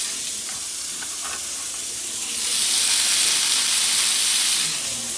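Nigella seeds and onion hit hot oil in a wok, first a soft crackle, then a loud rushing sizzle that swells midway and holds steady, close up with no talking.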